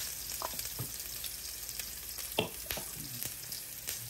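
Garlic fries in oil in a pan for a cheesy baked pork spaghetti bolognese. A steady, close hiss of sizzling runs throughout, with a few light clicks and scrapes from stirring.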